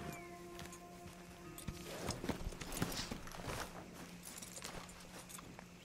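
Horse hooves clip-clopping in Red Dead Redemption 2, a quiet steady walking rhythm of soft thuds that starts after a low hum and continues to the end, no talk.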